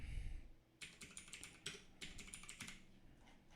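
Quick bursts of keystrokes on a computer keyboard, close and quiet, come in an uneven rhythm of several short runs of clicks after a brief pause.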